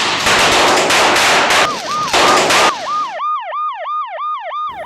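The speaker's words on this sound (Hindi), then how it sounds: "और साथ साथ में एम्बुलेंस की भागा दौड़ी।" Loud, rapid popping bursts of Diwali firecrackers give way to a wailing ambulance siren that cycles up and down repeatedly, close and piercing.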